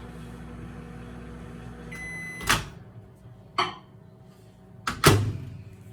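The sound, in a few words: microwave oven running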